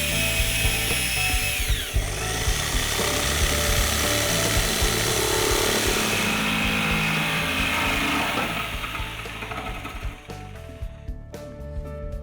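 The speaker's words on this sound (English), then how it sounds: "first I need to make a pilot hole" Power drill boring a pilot hole into a wooden nightstand, a continuous high whine with grinding texture under load, close and steady before winding down and stopping near the end.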